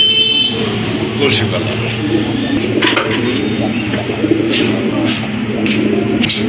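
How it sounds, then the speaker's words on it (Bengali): A pair of colourful orange Chila pigeons coo softly and repeatedly at close range, while a person talks over them. "অনেক সুন্দর কালারফুল একজোড়া অরেঞ্জ চিলা কবুতর"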